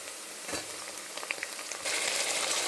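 Chopped tomatoes and softened onions frying in a pan for tomato bath, a steady sizzle with a few stirring clicks and knocks, then a sudden louder, brighter hiss as fresh tomato hits the hot pan.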